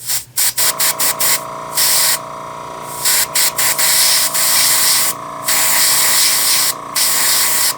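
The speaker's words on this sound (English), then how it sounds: "Make sure my brush is still spraying the way I want." An airbrush sprays grime weathering onto an N scale locomotive in short bursts and a few longer sustained hisses, close and sharp, separated by brief silent pauses.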